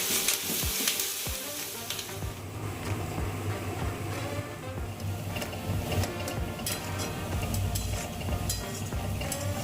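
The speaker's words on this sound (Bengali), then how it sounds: "ভালো করে বেরেস্তাগুলো ভেজে নিই" Sliced onions deep-frying in oil as beresta for homemade mutton biryani, a loud dense continuous sizzle and bubbling with occasional clicks of a utensil, close and unbroken.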